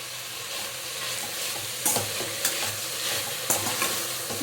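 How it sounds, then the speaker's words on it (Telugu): Mint paste added to a hot pan while cooking pudina pulav, giving a steady close sizzle with scraping stir strokes and a few sharp clicks of the spoon against the pan. "ఇప్పుడు పుదీనా పేస్ట్ వేసేస్తాను."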